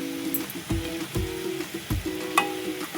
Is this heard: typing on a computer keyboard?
no